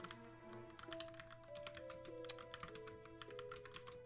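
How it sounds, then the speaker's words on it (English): Quiet, rapid typing on a computer keyboard, a steady patter of soft key clicks close by, with low background music and no talking. "I'm typing it out in Discord so that I can send everyone there on it"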